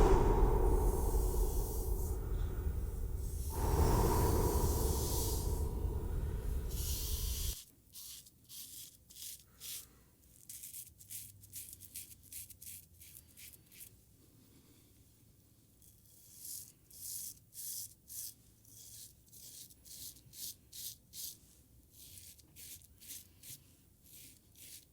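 Dry shaving strokes from a 90-gram Japanese safety razor, first a long loud scraping passage, then a quieter run of short rhythmic scraping strokes up close, with no talking.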